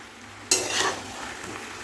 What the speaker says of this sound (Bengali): মশলাটাকে চিংড়ি মাছ দিয়ে আগে ভালো করে কষিয়ে নিয়ে তারপরে এঁচড়টা দিয়েছি এবার যতটা কষানো যায়